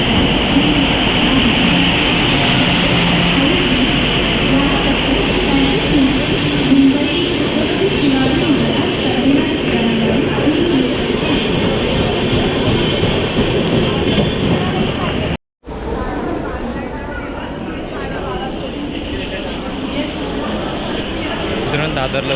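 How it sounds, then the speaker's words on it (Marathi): A train at Diva railway station produces a constant, loud rumbling roar that fills the whole stretch with only a momentary break. "आता आम्ही दिवा स्टेशनला बसलो, आता ट्रेन येईल"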